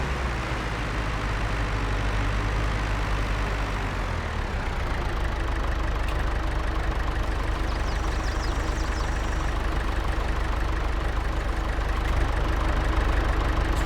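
Tractor engines idling steadily in Farming Simulator, a continuous low diesel rumble with a slight shift in pitch partway through, loud and even throughout, with no talking.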